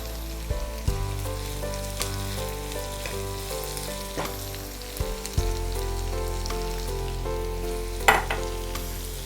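Shallots and onion frying in a pan for a country chicken roast, a constant crackling sizzle with a low hum underneath and a few sharp utensil clicks, no voices.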